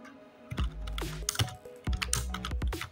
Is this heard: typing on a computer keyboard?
yes